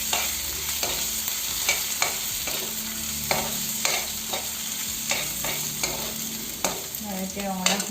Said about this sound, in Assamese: গোটেইখিনি ভালকৈ ভাজি লৈছোঁ।